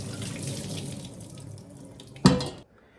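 Raw milk curds and whey pour through a colander, a steady close watery splash and trickle that ends with a brief sharper slosh near the end, then quiet.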